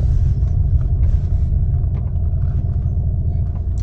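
A car moves at low speed with a steady low rumble of engine and road noise, close and continuous, with faint intermittent clicks over the drone.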